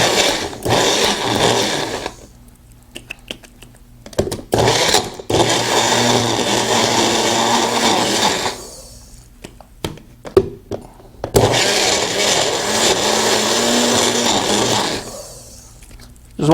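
A Magic Bullet blender whirs loudly in bursts as it mixes inside a mug, several pulses of steady motor buzz broken by short pauses and clicks, with no talking.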